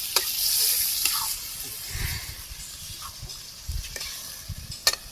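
Goat meat frying in a pan after garlic was lightly fried, a faint sizzling hiss broken by scattered scraping and stirring knocks, close but quiet.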